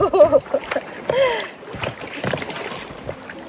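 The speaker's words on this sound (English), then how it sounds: "I'm rowing this section." A narrowboat is rowed along the Glasson branch canal, with repeated oar strokes splashing and sloshing in the water and voices faint in the background.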